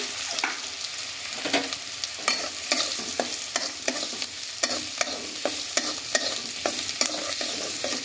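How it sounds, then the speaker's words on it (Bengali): Chopped onions fry in mustard oil with black cumin and cumin seeds, a continuous close sizzle overlaid by a steady rhythm of spatula strokes scraping the pan roughly every half second, with no talking. "পেঁয়াজটাকে আমরা খুব ভালো করে লাল লাল করে ভাজা করে নিচ্ছি"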